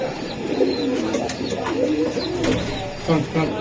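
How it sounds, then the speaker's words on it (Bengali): Pigeons cooing repeatedly close by, low throaty calls overlapping with faint chirps and some background voices, at a pigeon sale featuring Giribaj and Kaldam breeds. "এই যে প্রচুর ডাকে কবুতরটা"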